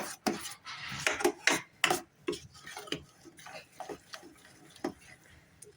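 Pav bhaji gets stirred in a pan, with a spoon scraping and clinking against the metal in quick, uneven strokes close by, loudest at first and then softer.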